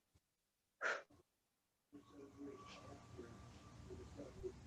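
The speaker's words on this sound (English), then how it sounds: "take that exhale through the lips, through the mouth. With 3 extra puffs of air at the bottom of your exhale." One breath exhaled through the mouth during a hatha yoga practice, a brief close whoosh followed by a couple of short puffs, then quiet room tone with a faint hum.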